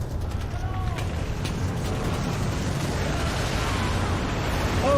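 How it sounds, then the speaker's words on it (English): A rumbling avalanche sets off by gunfire, a dense, continuous low roar filling five seconds at steady loudness, with faint shouting voices and scattered bursts riding over the rumble. "Avalanche! Take cover!"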